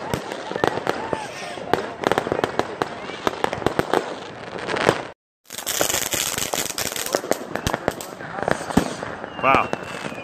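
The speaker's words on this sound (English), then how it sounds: "it is fireworks all 360, just all over the place" A dense barrage of New Year's Eve fireworks bursts all around in Scharnhausen, continuous crackling pops and bangs near and far, one short gap of near silence midway, and voices faintly underneath.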